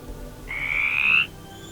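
A single frog croak, one clear drawn-out rasping call lasting under a second, close and distinct against a quiet background.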